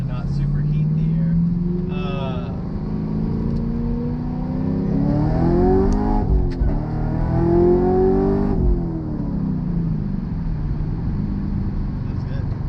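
A supercharged 2014 Camaro SS with long tube headers drones and pulls hard under acceleration, its engine note climbing and falling in smooth sweeps with a faint supercharger whine, close and steady throughout.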